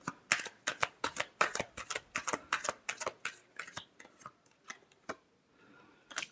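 Tarot cards being shuffled by hand close up, a rapid run of crisp riffling flutters and slaps that gradually slows and thins out toward the end, with no talk over it.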